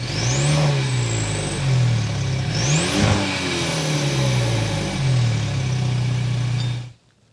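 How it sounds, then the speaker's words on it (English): A 2024 Mercedes-Benz E350 4Matic engine idles and revs repeatedly, its exhaust rising and falling in pitch several times before cutting off abruptly. "start up the new E-Class so you can hear that exhaust note."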